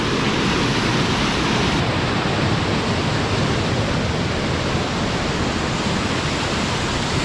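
Water rushing along a channel on a hillside tea estate, a loud, dense, continuous roar heard close up with no pauses and no voices.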